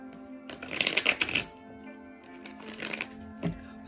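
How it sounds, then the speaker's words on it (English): Tarot cards being shuffled by hand, a crisp riffling burst followed by a softer second shuffle, close and clear with a faint tonal hum underneath. "I had to give these cards a quick shuffle."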